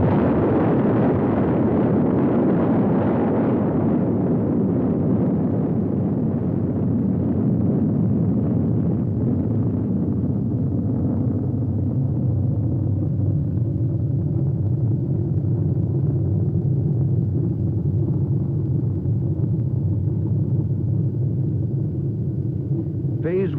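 A detonation of 250,000 pounds of high explosives rolls out as a massive, deep roaring blast that slowly fades into a long, low rumble over roughly twenty seconds.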